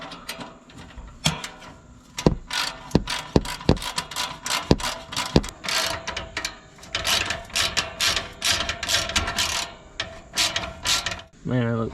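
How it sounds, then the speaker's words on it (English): Exhaust heat shield clamps being tightened on a Can-Am X3 side-by-side, a run of close, sharp ratcheting clicks and metallic mechanical rattles in irregular bursts, with a brief tool whir near the end. "we'll go ahead and tighten our clamps back down on our heat shield"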